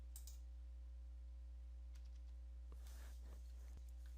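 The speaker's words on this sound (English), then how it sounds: "you want to tap the F8 key repeatedly on your keyboard" The F8 key on a computer keyboard is tapped in a few light clicks, soft and sparse over a steady electrical hum, with no voices.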